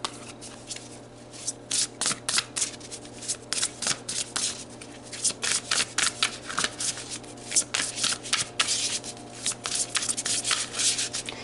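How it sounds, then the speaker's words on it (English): Tarot cards are shuffled by hand, close and clear, as bursts of crisp riffling and rubbing come in quick irregular clusters, with short pauses between them. "let's pull you some more cards here."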